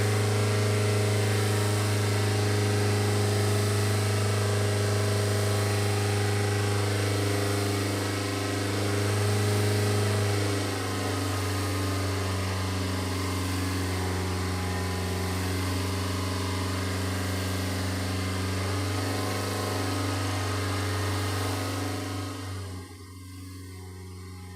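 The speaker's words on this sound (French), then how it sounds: "Mettons en route le moteur et laissons-le monter en température suivant les indications de l'écran." A car engine idles steadily for about twenty seconds as it warms up during an opacity emissions test, a constant low hum with a slight shift midway, before the sound drops away near the end.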